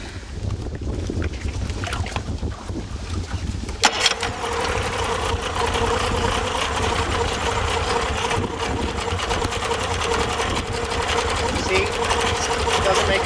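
A Tohatsu 40 outboard motor idles roughly with one cylinder misfiring and its plug wire pulled off, a steady close buzzing drone with a brief click midway and some wind noise.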